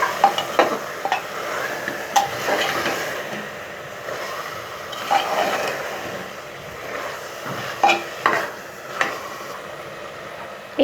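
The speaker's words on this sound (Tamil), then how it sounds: "இப்போ சிக்கனை சேர்த்துட்டு நல்லா கலந்து விட்டுருங்க." Chicken pieces stirred into masala in a frying pan, a steady sizzle with repeated scraping strokes of a spoon against the pan, close and moderately loud, no voices.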